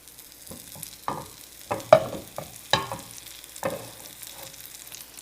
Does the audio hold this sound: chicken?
yes